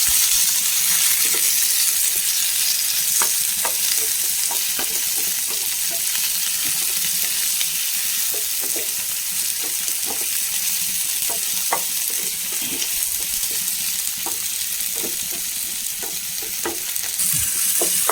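Tomato fries in a hot pan for a bread fruit curry, a constant sizzle broken by frequent light scrapes and taps of a spoon stirring, close and loud with no talk.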